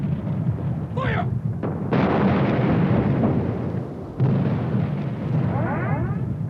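Artillery guns firing in a WWII Rhineland battle near the Hochwald Gap: heavy booming blasts and rumbling detonations, loud and continuous, with a couple of sharper bursts standing out.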